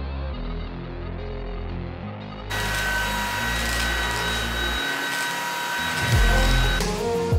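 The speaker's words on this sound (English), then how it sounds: "I've officially vacuumed everywhere." A household vacuum cleaner whirs at home, a steady motor hum that jumps louder and brighter partway through as it kicks up, then carries on with shifting pitch as it moves.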